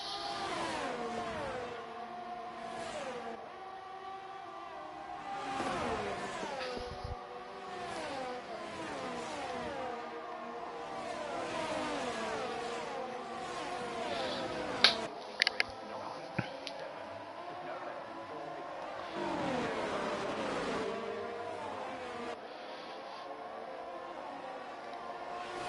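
Race cars engines in a sim racing game at Zandvoort, a continuous layered drone of several cars with shifting pitches, rising and falling as they pass, steady and fairly loud with a couple of brief clicks.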